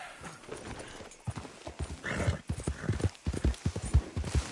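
Horse hooves clip-clop in a steady rhythmic gait in Red Dead Redemption 2, close and distinct, with a brief snort or whinny early on.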